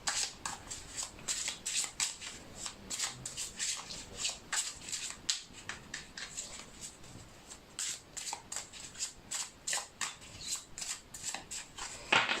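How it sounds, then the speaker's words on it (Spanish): Tarot cards being shuffled by hand, with a steady run of crisp riffling and slapping bursts that repeats quietly and close for several seconds with no voices. "Vamos a barajar las cartas, hay que barajarlas muy bien."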